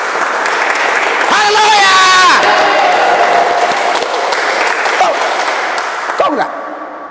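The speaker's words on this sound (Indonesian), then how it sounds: "Berikan sorak-sorai buat Tuhan yang dahsyat, luar biasa" A church congregation claps and cheers during worship, with loud, sustained applause and crowd noise swelling early and then fading. A preacher's voice rings over the noise.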